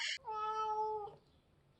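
An indoor house cat gives one drawn-out, whining meow, clear and close, followed by quiet and the start of a second call.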